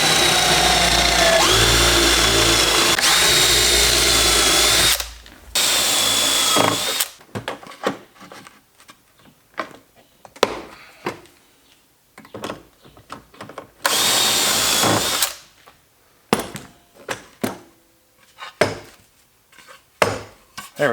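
A power drill drives Kreg pocket screws into plywood drawer faces, with loud, steady whirring runs near the start and middle, and between them sharp knocks, clatter and handling of the wooden pieces.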